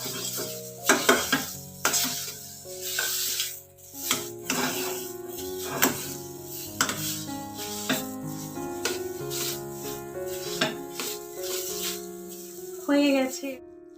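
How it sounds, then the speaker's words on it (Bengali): A spoon stirs ground lentil paste in a little oil in a nearly dry wok, scraping and clinking in steady strokes over a soft sizzle, with background music playing throughout. "কড়াইতে সামান্য তেল দিয়ে এই যে ডাল বাটাটা রেখেছি সামান্য একটু নাড়াচাড়া করতে হবে।"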